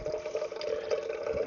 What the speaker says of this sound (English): Let's get some water in there.